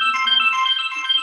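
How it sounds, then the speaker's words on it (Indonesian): A telephone ringtone plays during a school parents' meeting, a steady, bright electronic melody of sustained tones that carries on without pause through the short moment. "Telepon."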